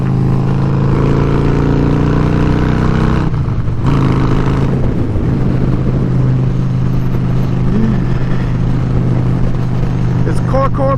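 A 2004 Harley-Davidson Dyna FXDI Super Glide rides up a grade, its V-twin a loud, close, continuous rumble mixed with wind noise, shifting pitch midway as it pulls on.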